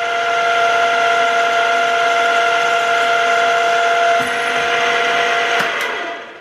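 A DMF-42 pedestal milling, tapping and drilling machine runs with a steady, loud motor whine while drilling a pilot hole. The tone stays even for several seconds, then a brief click-like change comes before it winds down.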